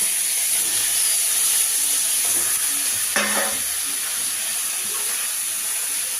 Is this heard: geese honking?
no